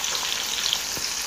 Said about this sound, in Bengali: এবার এর মধ্যে তেজপাতা দিয়ে দিলাম, পেঁয়াজ, লঙ্কা কুচি সব দিয়ে একটু ভেজে নেব।